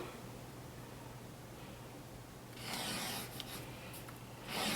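Pencil drawing a line across a paper sewing pattern, a faint steady scratch at first, then louder rubbing strokes in short bursts near the end.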